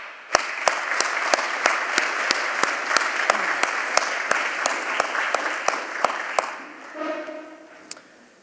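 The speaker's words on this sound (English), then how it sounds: "Please give yourselves a round of applause." A school audience applauds a football team, sustained crowd clapping for several seconds with sharp individual claps punctuating the wash, fading out at the end with a few scattered late claps.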